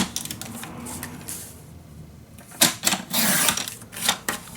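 Paper cut for a scrapbook mini album makes a string of crisp, scratchy slicing bursts, close and uneven, with no talking.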